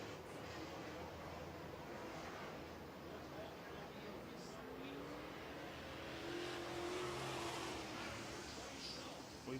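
Late model race cars circle a track at a race-night feature, a steady engine roar with a rising pass near the middle, heard under continuous talk.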